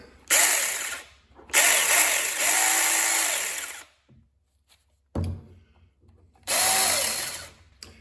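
A GPED 6-inch battery mini chainsaw revs in short close bursts, its motor whining up and winding down between gaps of near silence, with a faint clunk in one pause.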